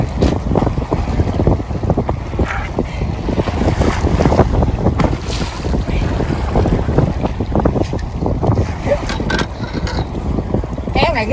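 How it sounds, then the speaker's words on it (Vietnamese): Strong wind buffets the microphone and roars steadily on a wide river while people fish with nets from a boat, with water noise underneath and voices talking over it throughout. "Quá gió rồi cả nhà."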